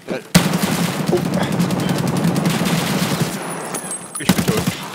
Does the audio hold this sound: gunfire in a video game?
yes